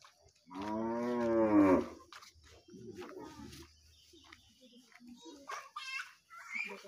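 A cow gives a long, loud moo up close, followed by quieter barn sounds, shuffling and faint animal noises.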